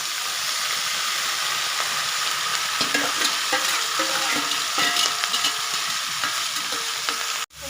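Fish curry with rohu in oil, stirred as it fries in a pan, a loud dense hiss of sizzling with light scraping of the spoon throughout, close up and without speech.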